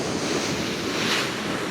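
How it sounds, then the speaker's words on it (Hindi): Sea waves entering hollow coastal caves in Balochistan make a loud, continuous wash and roar with wind buffeting, heard close and alone, swelling slightly midway. "अब जब पानी इन पहाड़ों के दरमियान दाखिल होता है आप उसकी आवाज़ सुनिएगा"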